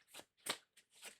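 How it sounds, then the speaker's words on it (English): A tarot card deck is shuffled in several quick riffled bursts, each a crisp papery flutter, close and quiet with short gaps between them and no talk. "It feels really nice to shuffle."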